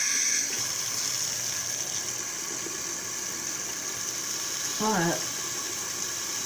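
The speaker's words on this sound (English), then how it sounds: "Now I'm going to turn the water on again" Kitchen tap running steadily for several seconds, a constant close hiss of flowing water, with a brief voice heard over it near the end.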